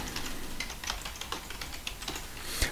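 Typing on a computer keyboard while entering a longer text for encryption: steady, irregular clicking keystrokes, close and moderately loud, with one sharper key strike near the end and no talk.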